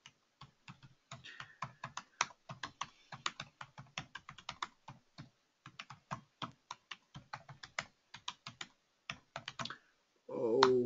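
Someone types on a computer keyboard in a quiet room, a close run of irregular clicky keystrokes with brief pauses, ending with a short burst of other noise.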